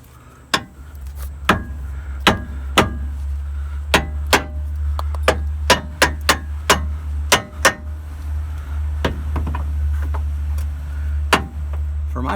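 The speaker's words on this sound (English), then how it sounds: "this here's my salvage hammer" Sharp metallic hammer strikes on a car's worn idler arm ring out one after another at an uneven pace over a steady low engine-like hum, some blows louder than others.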